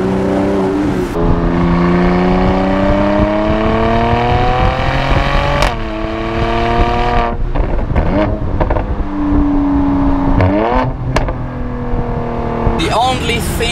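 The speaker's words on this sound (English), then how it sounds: "we opened the roof now to have a bit more of the exhaust." A 2017 Mercedes-AMG C43 convertible with its roof open and sport exhaust roars through repeated loud revs and accelerations, the engine note climbing and dropping in several pulls with crackles between them, close and dominant.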